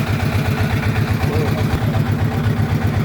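A motor boat engine chugs steadily and loudly up close in a fast low throb, carrying tourists on a river trip toward the white-stone area of Bholaganj, Sylhet.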